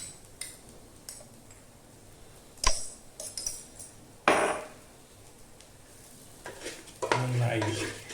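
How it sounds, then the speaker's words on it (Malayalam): Chicken masala powder stirred in a pan for chicken biryani, a spoon scraping and clinking against the metal in irregular strokes over a soft sizzle, with a few louder scrapes and knocks near the end. "നന്നായി ഇളക്കുക."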